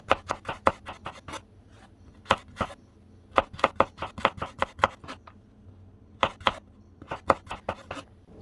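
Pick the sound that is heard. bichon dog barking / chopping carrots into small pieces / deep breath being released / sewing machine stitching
chopping carrots into small pieces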